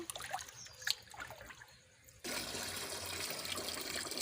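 Soft splashing at first, then water pours off soaked idli rava steadily in a continuous rushing stream, close by and fairly loud.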